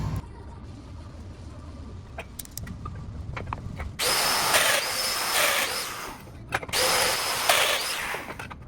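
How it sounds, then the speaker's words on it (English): A domino joiner cuts 20 mm mortises in white oak lumber for a dining table, with two loud, sustained bursts of whining motor and cutting noise, separated by a short pause and preceded by quieter handling clicks. "So these dominoes were drilled at 20 millimeters."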